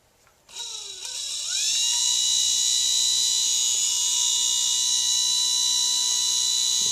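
An American magnet motor spins up from rest, its pitch rising over the first two seconds into a loud, steady high-pitched whine that holds to the end, with no talk.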